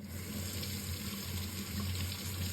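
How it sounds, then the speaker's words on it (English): Running water pours steadily from a kitchen tap into a sink, a constant close-up hiss and splash with no talking. "So I'll just turn on my water here"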